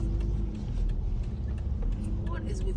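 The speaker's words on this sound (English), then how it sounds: "What is with this traffic today?" Passing cars on a busy roadside, a steady low engine and tire rumble running throughout, heard from close by with a few higher whining notes near the end.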